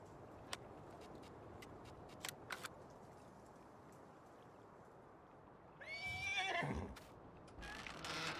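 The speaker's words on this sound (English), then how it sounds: "Horse, horse, horse, horse, horse." A horse in the Farming Simulator 19 game gives a loud whinny partway through, with scattered hoof clip-clops and light clicks before it and further hoof sounds after, over faint background noise.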